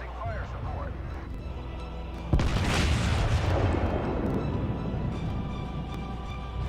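A warship gun turret firing a single heavy salvo in the video game World of Warships, a sudden loud boom partway through followed by a long rumbling decay over steady engine drone and low background sounds.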